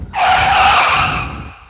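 A Honda SC motorcycle brakes hard and its tire squeals in a single loud, sustained skid lasting about a second before fading out, with engine rumble underneath and no voices.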